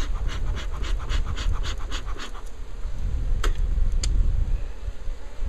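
A beekeeper's smoker sends a quick run of breathy puffs into a hive, with the close, constant drone of buzzing bees all around it.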